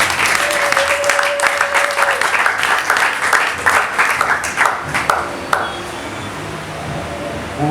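A church congregation applauds loudly and steadily in dense, sustained clapping that fills the room, with scattered voices and a brief tone mixed in before it thins slightly toward the end.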